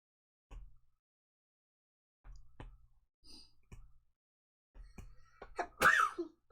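A sharp, forceful sneeze bursts out near the end, close to the mic and preceded by a few soft throat noises and small bumps in an otherwise quiet room.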